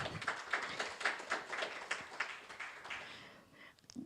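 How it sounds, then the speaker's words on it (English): A small audience at a live market-outlook presentation gives the speaker a round of applause: faint, fairly regular claps spaced about a quarter second apart that thin out toward the end. "round of applause, please."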